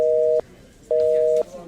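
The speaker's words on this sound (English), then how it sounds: "the line's busy." A telephone busy signal plays two loud, steady tones, each about half a second long, with a short gap between them. It sounds close and clear.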